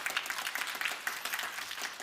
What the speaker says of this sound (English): Warm applause to Frans Stiveren and FlyAR